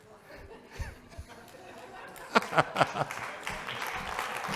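Brief audience clapping at a conference talk on burnout, a short burst of a few claps mixed with chatter and light laughter from the crowd in a room.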